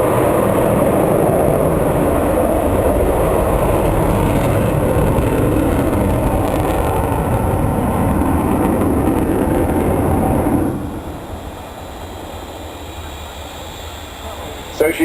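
Avro Vulcan XH558 bomber at an RAF Waddington air display gives a loud, broad, continuous roar that drops abruptly to a quieter rumble partway through, with a commentator's voice over it.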